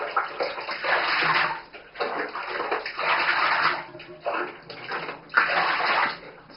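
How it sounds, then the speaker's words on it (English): Hot water gushes steadily into a bathtub, a loud splashing rush that surges and dips in waves throughout. "I want to add some pure hot water and get it really hot"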